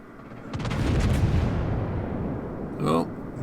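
Rear turrets of the World of Warships Tier-7 American premium battleship California firing, a deep rolling boom that swells and fades over a couple of seconds, followed by a brief spoken voice.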